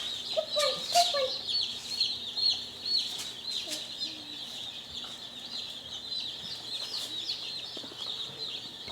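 A brooder full of Cornish Cross meat chicks, one of 125 newly arrived birds, keeps up a dense, steady chorus of high, thin peeping at moderate volume. No voices are heard.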